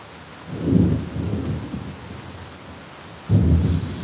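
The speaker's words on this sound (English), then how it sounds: "the rain is definitely starting to pick up a bit more." Tampa afternoon thunderstorm: heavy rain hisses steadily while two deep rolls of thunder rumble, one early and a second sharper burst near the end.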